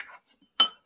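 A spoon clinks once, sharp and close, inside a spice jar while dry shampoo powder is mixed, preceded by faint scraping.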